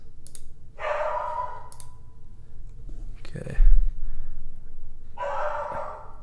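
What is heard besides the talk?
dog barking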